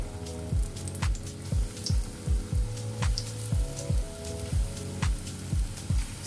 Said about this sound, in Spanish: Vamos a echar nuestras albóndigas para que se vayan friendo.